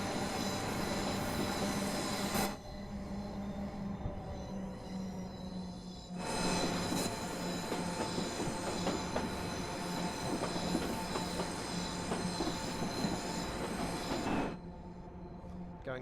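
A passenger train pulling into London Euston, platform 16, in the game Train Sim World 5, with a continuous loud rumble of carriages, rhythmic wheel clatter and squealing rails, interrupted by two brief quieter gaps.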